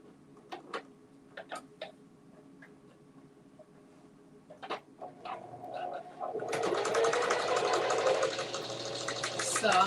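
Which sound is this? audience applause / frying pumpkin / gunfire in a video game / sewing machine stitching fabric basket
sewing machine stitching fabric basket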